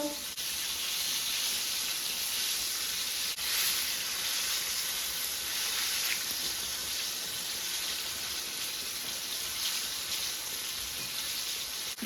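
Fish fries in hot oil on a home stove for a Sunday dinner, giving off a loud, dense, unbroken sizzle and crackle that holds steady throughout with no break.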